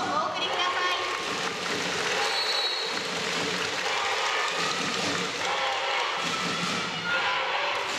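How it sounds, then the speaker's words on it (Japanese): A crowd in a high school volleyball arena, at the start of a girls' prefectural final, claps and cheers loudly and continuously, with an announcer's voice carrying over the applause. "両チームの先頭に盛大な拍手をお送りください。"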